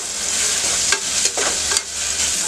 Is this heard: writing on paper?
no